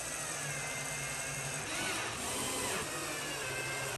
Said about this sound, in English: I'm just gonna go around and put some wood screws in